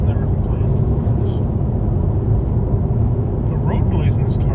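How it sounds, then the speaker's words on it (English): A constant low road rumble from a car moving on Interstate 75 near Ocala, Florida, steady and droning, with faint voices now and then over the engine and tyre noise. "The road noise in this car is kind of crappy."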